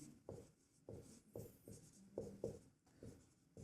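Pen scratching across paper while writing out a probability solution for a Class 10 maths exercise, a series of short, close, quiet strokes in an uneven rhythm with no talking.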